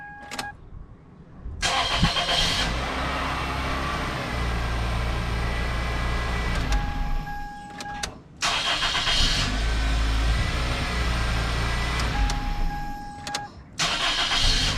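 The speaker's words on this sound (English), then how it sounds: "Okay, so now we're going to start up the vehicle." A 1999 Toyota Corolla engine starting after a starter replacement: the starter cranks, the engine catches and settles into a steady idle, then shuts off and restarts twice more, loud and close with no talk.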